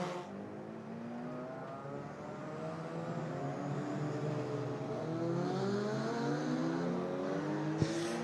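Racing cars, MGBs and Minis, lapping a street circuit during a practice session, with a steady engine drone and layered revving tones that swell as cars approach, heard from a moderate distance without talk.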